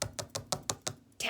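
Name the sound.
tapping on a window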